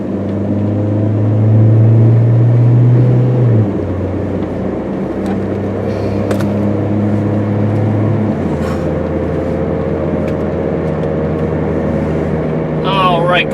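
A 2003 Mitsubishi Lancer ES sedan pulls out onto a road and accelerates toward about 55 mph, its engine hum climbing then settling into a steady cruise drone with road noise.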